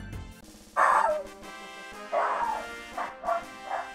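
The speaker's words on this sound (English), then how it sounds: "you are hearing my insane dog right now go crazy over nothing, thinking he heard something" A dog barks excitedly indoors in several loud, yippy bursts with short whines between, close by and without talk.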